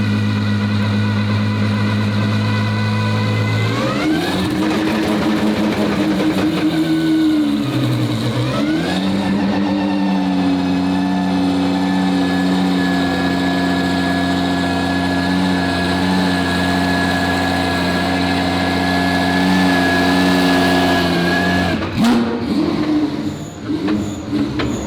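Twin turbo Ferrari F12 engine loaded on a dyno, holding steady at high load for about twenty seconds with a dip mid-clip, a loud continuous harmonic drone that swells and settles before dropping off near the end.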